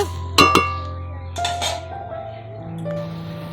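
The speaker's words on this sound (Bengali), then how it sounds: "আলুটাকে একটু জলের সঙ্গে নাড়াচাড়া করে নেব" Potatoes are stirred with water in a metal pot, giving a couple of sharp clinks up front, then softer scraping and knocking at moderate volume.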